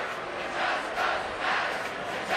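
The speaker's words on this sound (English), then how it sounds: "The crowd is letting them have it" A crowd at a K-State vs UCF college football game in a stadium jeers, a loud, broad roar of voices that swells and surges, with no single voice standing out.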